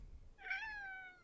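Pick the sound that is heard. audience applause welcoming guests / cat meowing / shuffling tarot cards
cat meowing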